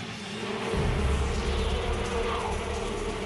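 A dense swarm of honeybees roars at the hive entrance as defenders engulf a Mandarinia hornet scout, a thick, loud buzzing that swells and holds steady, with no voices.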